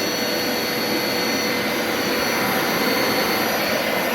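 A Hoover Power Scrub Elite carpet cleaner running on its rinse setting gives a steady, loud, close whooshing roar with a high whine, unbroken and with no talk.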